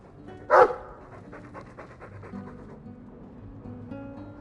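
A dog in the game Dragon Age 2 pants in quick, soft, rhythmic breaths after a brief sharper sound, close and steady beneath low ambient game music.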